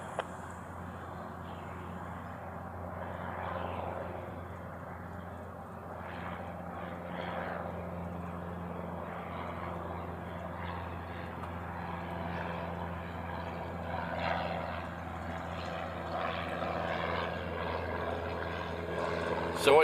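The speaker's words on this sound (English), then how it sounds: "Runway 4 left clear to land," Qantas airliner landing on runway 4 left at Honolulu, a steady distant engine roar and rumble rising slightly over time, with faint background noise and no clear talk.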